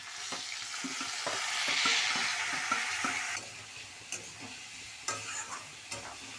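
A paste of ground ginger, tomato, chili and onion fries and sizzles loudly in a pan, with a spatula stirring and scraping in irregular clicks as the hiss eases slightly partway through.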